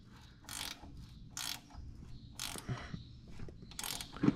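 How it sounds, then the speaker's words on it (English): Ratcheting gear wrench tightening bolts on disk gang bearing flanges of a Case disk chisel, several quick bursts of sharp clicking spaced about a second apart, close, with faint metallic clunks between and no talk. "It's best off if you have a gear wrench to do this"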